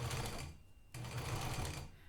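A sewing machine stitching a fisheye dart runs in two steady whirring bursts, briefly pausing in between, close and fairly quiet.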